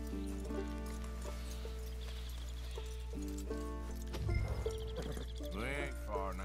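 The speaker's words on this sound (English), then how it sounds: "I gotta walk with the horse." Horse hooves clip-clopping at a walk in Red Dead Redemption 2, a steady plodding rhythm beneath game music and ambience, with a brief louder thump and a voice joining near the end.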